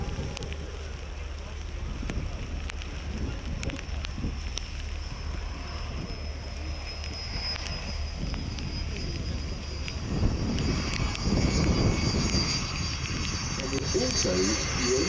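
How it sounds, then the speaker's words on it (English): A Red Arrows BAE Hawk jet arrives at the Royal International Air Tattoo, a broad steady roar under wind noise and crowd murmur that swells louder toward the end. "And the first of these arrivals is the tenth Red Arrow Hawk."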